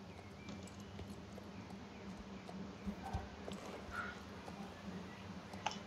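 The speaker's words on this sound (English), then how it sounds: "I took her over to Carney to ask which paddock I should turn her out" Horse hooves walk in the Star Stable video game, a soft steady clip-clop of repeated light thuds over a low ambient hum, faint and continuous.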